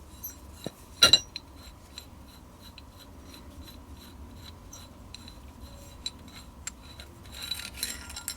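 Small metal parts of a Remington 700 rifle bolt click and clink as it is taken apart using a coin, with one sharp bright clatter near the start and lighter scattered taps after it.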